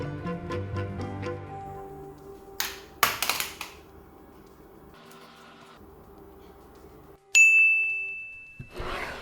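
A marker strikes an object resting at the edge of a ruler on a table, knocking it off to fall to the floor: a cluster of short, sharp clattering impacts amid ringing background tones, followed later by a bright tone.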